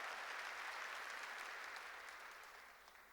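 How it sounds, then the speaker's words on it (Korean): A church congregation claps together in sustained applause, a dense, steady wash of hands that stays loud before fading slightly toward the end, with no voices standing out. "박수로 하나님께 영광 돌려가죠"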